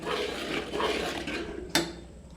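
Thick sweet mixture for a cake sweet being stirred in a pan, a steady close scraping and clinking of the spoon against metal, with one sharp knock near the end.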